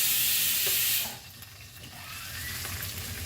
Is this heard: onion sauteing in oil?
yes